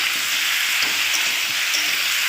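Spice paste sautés in a pan for a Bengali prawn and mixed vegetable dish, a loud, steady hissing sizzle with faint stirring scrapes beneath it.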